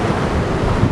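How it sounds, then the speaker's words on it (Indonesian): Strong wind at Ketang Beach in Lampung buffets the microphone with a loud, steady roar, blending with surf and drowning out everything else. "Kalau suara kita kalah karena ini anginnya gede banget."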